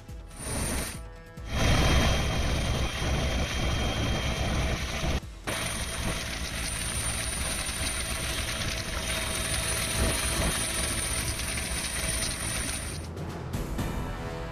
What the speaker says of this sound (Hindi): शिव भक्तों पर हेलीकॉप्टर से बरसे फूल।